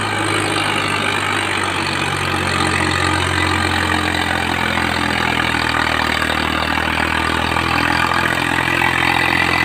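A stuck vehicle's engine, its rear tyre sunk in, runs with a steady, loud, continuous drone and rumble throughout, close by and without talk.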